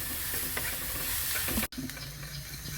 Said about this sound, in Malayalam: ഇത് നന്നായിട്ട് വഴന്ന് വരണം